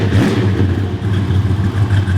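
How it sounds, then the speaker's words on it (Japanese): A Dodge Charger R/T, the restored classic muscle car, runs with a loud, steady engine rumble and revving under way throughout, close by, with no talk over it. "Start her up, Billy."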